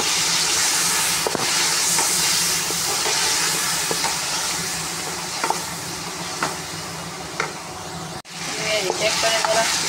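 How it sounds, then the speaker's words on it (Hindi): Chicken with ginger, garlic and green chili paste fries steadily in a pot for pulao, a continuous loud sizzle and hiss with occasional scraping stirs and light clinks. "चेक करें ज़रा चिकन भी और अदरक लहसुन हरी मिर्च का पेस्ट भी फ्राई हो गया"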